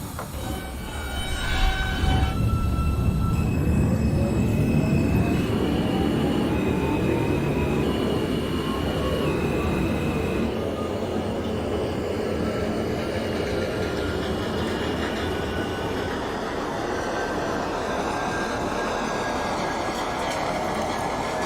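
Simulated NYC subway R160 R train running between stations, with a rising motor whine, rumbling wheels and rail clatter building as it accelerates and sustained at a steady, fairly close level.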